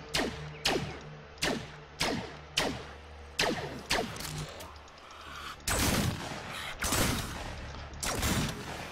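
Gunfire in the video game Fragmented as creatures are shot: about a dozen loud, close single shots in a fairly regular rhythm, each with a quick echoing decay, with a few heavier blasts near the end.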